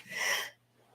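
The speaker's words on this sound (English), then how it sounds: "Uh-oh, I have to sneeze." A single close-up human sneeze, a short burst of breathy hiss lasting about half a second and then cutting off into quiet room tone.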